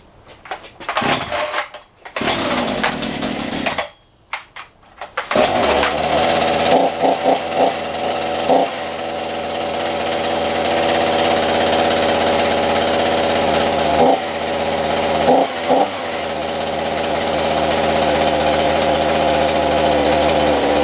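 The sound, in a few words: Champion and Poulan chainsaws cold-starting and running at -10 °C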